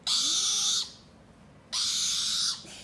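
A pet bird playing with Bonnie gives two loud, harsh, sustained calls close by, each lasting nearly a second, separated by a brief quiet gap.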